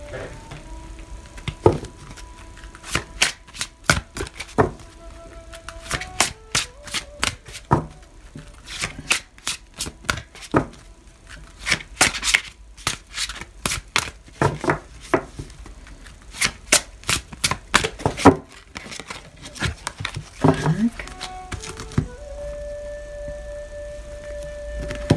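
A deck of tarot or oracle cards being shuffled and drawn in a Czech card reading, with repeated crisp riffling bursts and flicks close up, separated by brief pauses, and a soft background tone.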